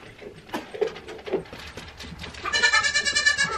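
Baby goats bleat several times nearby in the morning, short wavering cries at first, then a longer, louder bleat toward the end.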